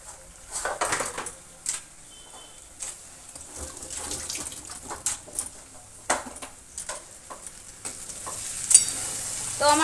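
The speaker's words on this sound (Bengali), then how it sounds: "এই যে ডিম দিয়ে একটু নাড়াচাড়া করছি, ডিমটা ঝুরঝুরো হয়ে যাবে" Eggs stirred in a frying pan for a dhaba-style dish, with crackling sizzle under irregular scraping strokes of a spatula and occasional clinks against the pan, moderately loud and close.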